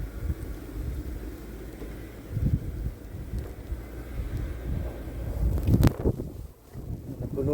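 Strong wind during a Montreal snowstorm buffets the microphone, a low rumbling gusty roar that swells and fades unevenly throughout.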